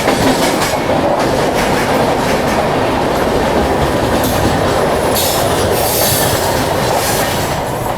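A double-decker express on Indian Railways between Ahmedabad and Mumbai crossing another train at high speed, with loud, continuous rushing rail noise, rapid clickety-clack of wheels and brief squealing, close and unbroken.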